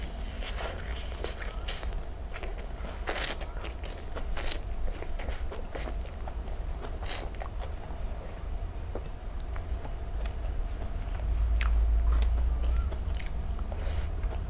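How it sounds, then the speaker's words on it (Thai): Raw papaya being bitten and chewed outdoors, with crisp crunching bites and steady mastication close to the ear over a low background rumble, no talking. "เดี๋ยวลองกัดนี่ก่อนต้มกินเลย"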